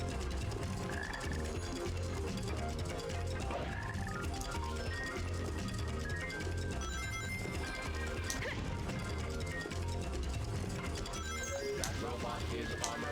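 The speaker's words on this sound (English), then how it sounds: "There's that black frog" Croaking from a black frog in the video game Sonic Heroes, repeated rough croaks under busy game music, crashes and a speaking voice throughout.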